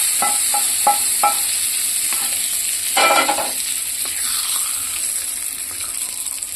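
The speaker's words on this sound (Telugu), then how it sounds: "ఇప్పుడైతే తాలింపు ఇందులో వేసుకుందాం." Tempering for a brinjal roti chutney sizzles loudly and steadily in a pan, with a few spoon clinks early on and a brief louder burst of frying partway through.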